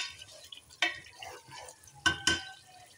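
Masala frying in a pan on high heat while a spoon stirs it, with low sizzling throughout and a few sharp scraping knocks of the spoon against the pan, close and moderately quiet.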